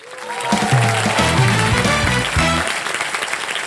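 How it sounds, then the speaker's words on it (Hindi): Studio audience applauding on a game show set, a loud dense burst of clapping with music underneath that carries on steadily and then eases slightly toward the end. "जोरदार तालियां."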